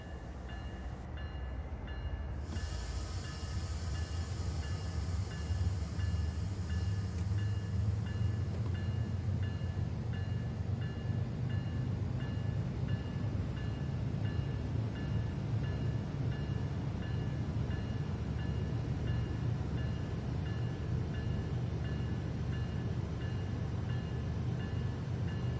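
A freight train departs San Bernardino in Train Sim World 3, a steady low rumble of rolling wagons that swells and holds, with a brief high hiss near the start and no talking.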